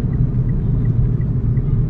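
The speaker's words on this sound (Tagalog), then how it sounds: "Apply ako ng preno. Ayan lakas. Papalag." A car shudders under braking, with a brake fault that also sends vibration through the steering; a loud, steady low rumble runs throughout with no talking.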